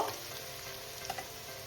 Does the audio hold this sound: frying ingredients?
yes